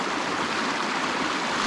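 A creek in the Ouachita Mountains flows in a steady, close, broadband rush of water that holds even throughout, with no voices heard.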